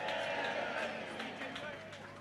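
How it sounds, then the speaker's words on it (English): Large outdoor crowd at a political Leave Means Leave rally applauding and cheering, a dense steady wash of clapping and voices that fades slightly toward the end. "Give them a huge round of applause."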